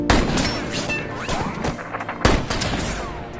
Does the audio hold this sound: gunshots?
yes